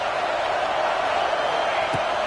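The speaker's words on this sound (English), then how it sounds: "This crowd bringing the energy and noise early." A football stadium crowd roars as a dense, loud wall of cheering that holds steady, with a brief voice cutting through near the end.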